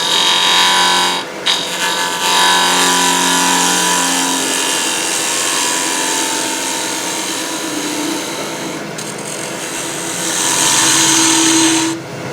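A woodturning lathe hums while a tool cuts off a wooden tenon, a steady, loud whine with scraping tones that rise and shift, briefly dipping and swelling again near the end.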